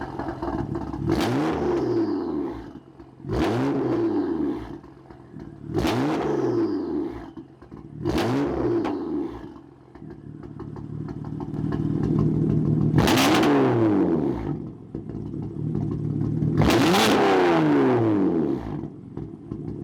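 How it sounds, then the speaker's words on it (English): Powerful BMW F80 and G80 M3 engines rev hard in repeated bursts with exhaust valves closed, each rising and falling, with longer, louder revs toward the end, close by and with no talking. "We're gonna take turns revving the F80 versus the G80 to compare the sound difference on each one."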